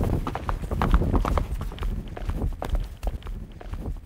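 Hoofbeats of a ridden horse, a quick irregular clip-clop of hooves on the ground at moderate distance, continuous for a few seconds with some background rustle.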